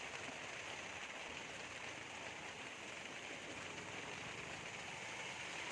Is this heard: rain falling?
yes